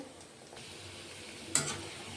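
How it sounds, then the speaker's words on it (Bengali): Palm-fruit fritters (taler gulguli) frying in oil give a soft, steady sizzle, with a brief louder crackle near the end. "তেলে গুলগুলিগুলো ছেড়ে দিয়েছি"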